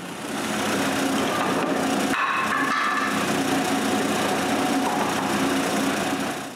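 A power saw cuts slots into wooden blocks for a tripod, a steady high whine under load with a brief change in pitch as the blade moves through the wood, no talking.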